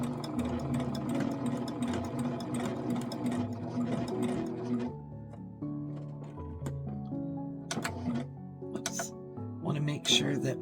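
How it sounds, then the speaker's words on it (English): A sewing machine stitches around the base of a lotus flower quilt block, a steady rapid mechanical whir that runs in stretches and pauses, with the sewer talking over it. "I'm just going to sew around that base."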